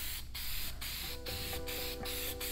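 Cheap Walmart spray paint sprayed onto a car in repeated hissing bursts, about six short sprays in a steady rhythm, close and loud with a faint tonal hum underneath.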